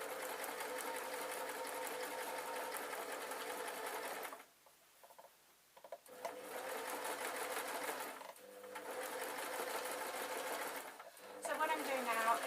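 A sewing machine runs in steady stitching bursts on jacket fabric with binding tape, pausing briefly twice and then resuming, close and clear with no talking.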